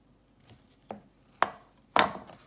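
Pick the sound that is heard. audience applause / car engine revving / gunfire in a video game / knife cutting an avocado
knife cutting an avocado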